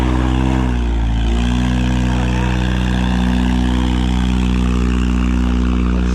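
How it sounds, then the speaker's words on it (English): A Megacab pickup truck engine pulls at half throttle while climbing a hill, a loud, steady, droning rumble heard from inside with a slight pitch dip early on, then holding even throughout, with no voices. "that's half throttle, just trying to get it up the hill."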